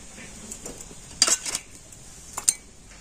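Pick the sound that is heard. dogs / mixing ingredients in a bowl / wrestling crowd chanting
mixing ingredients in a bowl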